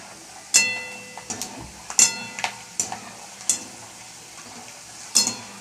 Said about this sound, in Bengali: ভেজে নিলাম বাদামগুলো